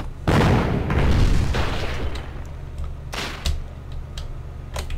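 In the video game Foxhole, artillery fires during a massive base assault: a loud, close boom with a long rumbling tail, followed by fainter distant blasts and sharp pops.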